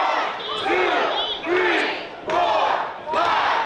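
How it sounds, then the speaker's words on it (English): A pro wrestling crowd chants in unison during a headlock, loud roaring shouts rising and falling in four rhythmic swells, close and filling the arena. "Crowd counting along now with every wrench of that devastating headlock"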